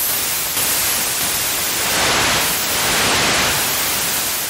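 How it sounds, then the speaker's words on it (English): Steady, loud white noise from the noise oscillator of the Surge XT software synthesizer, a dense broadband hiss that swells slightly in level and holds constant, with no voices. "But then you can get it up into full white noise"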